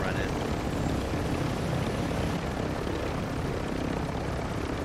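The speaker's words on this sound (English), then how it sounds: "I'll take the helicopter there" Helicopter noise in a video game, a steady dense rotor and engine roar filling the whole clip, loud and continuous with no breaks.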